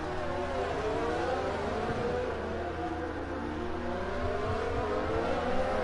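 Several racing cars from a video game set at the Austria circuit run close together in a line, their engines droning and overlapping with shifting pitches, a steady continuous roar with no voices.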